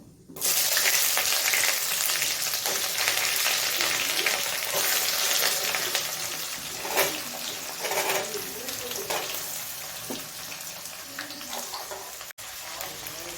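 Chopped onions hiss and sizzle in hot oil with whole coriander for a chicken curry, a steady bright frying crackle that starts loud and softens slightly, with occasional stirring clatters.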